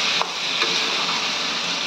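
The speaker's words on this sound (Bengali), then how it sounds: "সোয়াবিনটা সয়াবিনটা দিয়ে আমি ভালো করে একটু কষিয়ে নেব।" Marinated soybean chunks frying in spice masala in a pan, giving a brief, steady close sizzle with a couple of faint stirring taps.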